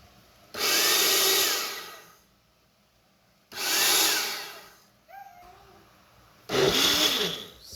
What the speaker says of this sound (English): So I'm going to go ahead and blend all of this goodness